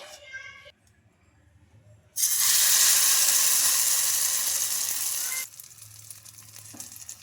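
Egg and wheat rava batter hits hot oil with a sudden loud sizzle that holds steady for about three seconds before dropping away. A voice speaks briefly before it, and light kitchen noise follows.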